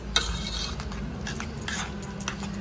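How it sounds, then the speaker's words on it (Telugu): Cooked lentils being mashed in AMC cookware, a close scraping and stirring of a metal utensil against the pot with a couple of sharp clinks, steady and fairly loud. "ఇక్కడ నేనేంటంటే గ్రైండ్ చేయట్లేదు, పప్పును జస్ట్ స్మాష్ చేస్తున్నాను అంతే."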